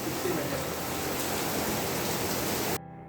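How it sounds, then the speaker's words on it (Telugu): A heavy downpour near Suryalanka beach makes a dense, steady hiss of rain that cuts off abruptly near the end. "అబ్బాయి జడివాన"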